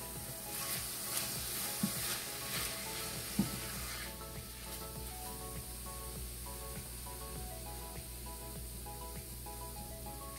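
Zucchini and ginger pasta sautéing in a pan with a splash of liquid aminos, a soft continuous sizzle with a few sharp clinks early on, no speech over it.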